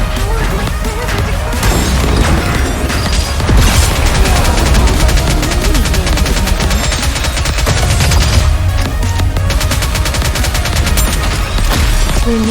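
Dense, rapid gunfire from the video game NIKKE, with overlapping bursts and impacts sounding continuously and loudly throughout, mixed with game sound and occasional voices.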